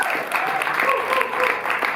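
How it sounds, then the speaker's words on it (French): An audience at the Grand Action cinema in Paris claps at a screening of Nicolas Roeg's "Walkabout", producing a dense, steady burst of applause that lasts about two seconds. "Tonnerre d'applaudissements pour Godefroy."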